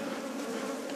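Bees buzzing on Mount Lubwe near Butembo in North Kivu, a close, steady droning hum with a wavering pitch that holds for the whole moment, no voices.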